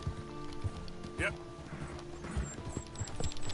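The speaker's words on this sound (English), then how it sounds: "Let's give our horse a bit of a spurt because he needs a run." A horse gallops in the video game Red Dead Redemption 2, its hoofbeats soft and quick under a voice talking.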